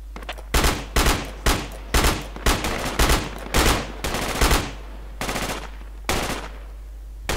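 Automatic gunfire in the military shooter Project Reality during a firefight on the Yamalia map: about ten loud, evenly spaced bursts of machine-gun fire, close and dominant, with no talk.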